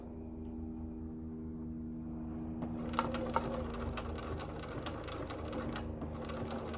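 A sewing machine runs a zigzag stretch stitch around a garment sleeve, its steady mechanical whir continuous throughout, with faint ticks and clicks of fabric handling partway through and no talking.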